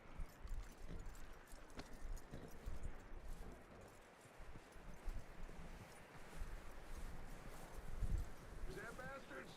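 Horse hooves clip-clop in an irregular trotting rhythm across rough ground in Red Dead Redemption 2, soft and close, with faint rustling and a brief snort near the end.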